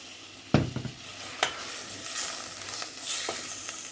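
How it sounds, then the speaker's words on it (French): Chicken breast browns in olive oil in a wok with a soft, steady sizzle. A few sharp knocks of a utensil against the pan punctuate it, and there is no talk. "Je vais laisser dorer un petit peu mes blancs."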